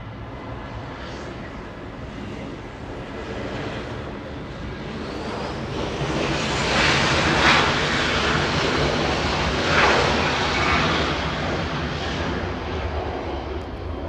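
Southwest Airlines jet departing LAX for Phoenix, a broad engine roar that swells to a peak midway and then holds, heard at some distance with a windy wash.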